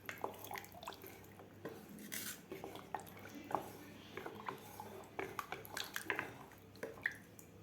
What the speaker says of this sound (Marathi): पाणी घातल्यानंतर व्यवस्थित मिक्स करून घ्यायचं आहे.